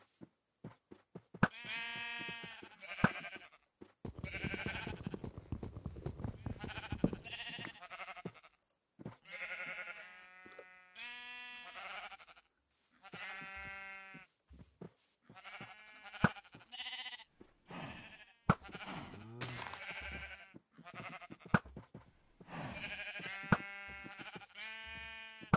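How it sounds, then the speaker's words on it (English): Minecraft FTB sheep bleat over and over in quick, overlapping calls, mixed with clicks and a burst of rustly noise, loud and close throughout. "Ah, sheep."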